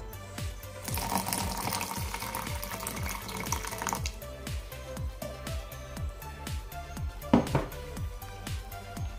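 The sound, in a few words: water poured into mixer jar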